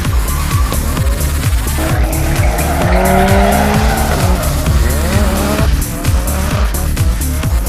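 A JDM car drifts with loud, sustained tire squeal over a revving engine, the screech rising and falling as the skid continues, close and intense with no talk.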